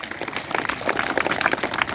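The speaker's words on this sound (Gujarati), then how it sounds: "જોરદાર તાળીઓના ગડગડાટથી આપણે તેમને સ્વાગત કરીએ" Steady, dense clapping from a sizeable crowd welcoming the prant officer at a taluka Independence Day celebration in Beh village, Khambhalia, sustained and fairly even for the whole stretch.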